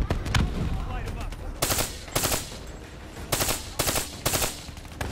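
Automatic gunfire in a Black Ops 3 story mission: loud, sharp bursts of rapid shots repeating in several short volleys, close and dominant over background game sounds.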